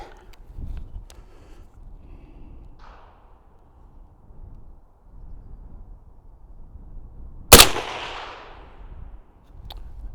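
A single sharp, loud report from a Perun X16 .300 Blackout rifle cracks out near the end, trailing into a brief echo, after several fainter clicks and thumps in a quiet outdoor setting.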